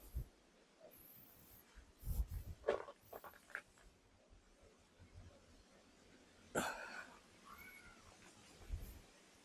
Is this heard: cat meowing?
yes